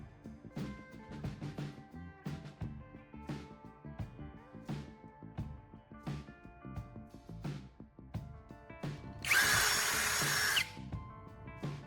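A power drill bores a small hole into the plastic casing of a charger, with repeated short clicks and handling taps followed by a loud, steady whine of the drill running for about a second near the end.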